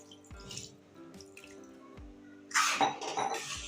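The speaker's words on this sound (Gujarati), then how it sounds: "હવે આપણે એની અંદર પાણી નાખી દઈશું તો આપણે અડધા ગ્લાસ જેટલું પાણી નાખશું" Half a glass of water poured into coated spice masala in a pan while cooking kantola curry, faint drips at first and then a louder, close splashing pour.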